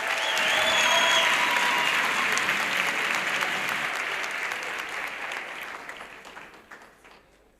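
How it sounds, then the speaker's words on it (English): Audience applause at a youth empowerment event in the Vaal, a steady crowd clapping that holds loud for several seconds and then gradually fades out toward the end. "Can we please give her a round of applause?"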